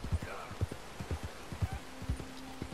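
Horse hooves clip-clop in a steady walking rhythm in Red Dead Redemption 2, the faint, evenly spaced thuds repeating without pause over a quiet outdoor ambience.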